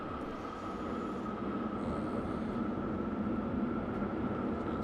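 Steady hiss of roller coaster brakes on a Six Flags Magic Mountain West Coast Racer build in Planet Coaster 2, a continuous airy rush with a low rumble, sustained and fairly loud with no talk over it.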